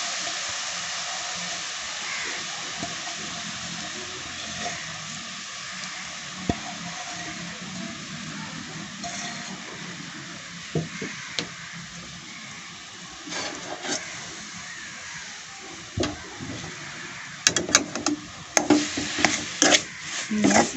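A coconut and sugar mixture fries in a kadai for coconut laddu, giving a steady soft sizzle and hiss throughout, with scraping stir clatters of the utensil growing busier toward the end.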